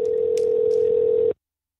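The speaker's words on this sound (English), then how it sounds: "We're going to try to get Levon Kirkland on the phone right now." Telephone dial tone during a sports talk radio show's attempt to phone a former NFL linebacker, a steady, loud unbroken tone lasting just over a second before cutting off abruptly into silence.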